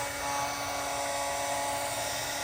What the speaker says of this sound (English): So heat gun, you know, help things along a bit.